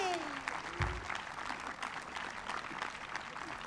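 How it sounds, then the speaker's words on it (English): A festival audience at a folk festival claps and cheers in a sustained, dense round of applause, heard from a distance and fairly faint, with a brief shout near the start. "please give a round of applause to the guys doing all the videoing and all the recording"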